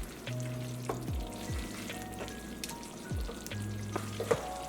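Fried prawns tipped into a frying pan for creamy beef and shrimp pasta, giving steady close sizzling with a few spoon clinks and stirring scrapes, no voices.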